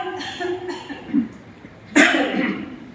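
A single harsh cough near the end, produced after chest percussion, preceded by a soft voice and a brief throat sound, close to the listener.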